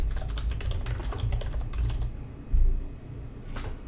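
Rapid, steady typing on a computer keyboard, close and fairly loud, clicks running in a quick irregular stream and then slowing to a few isolated keystrokes.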